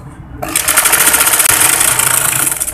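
Sewing machine stitching a kameez seam with a half-inch margin, starting abruptly after a brief quiet moment and then running in a fast, loud, steady whir to the end, with a tiny hitch midway.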